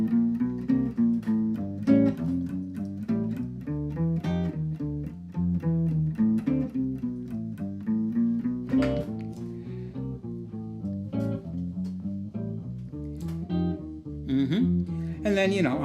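Jazz guitar playing a tune reimagined as bebop, with fast, busy single-note lines and chords running continuously, played close and clear without talking over them.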